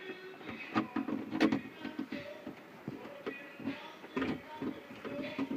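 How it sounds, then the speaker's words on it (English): Plastic retaining pins pop loose one after another while an ECU is pulled from a Yamaha Ultra 300/310, giving several sharp close clicks and snaps among handling rustle and knocks. "push in these 4 pins. They're just plastic. You'll hear it pop."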